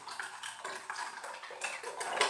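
Eggs, vanilla essence and sugar are mixed in a bowl, producing quiet, rhythmic clinking and scraping of a utensil against the bowl, faint and steady.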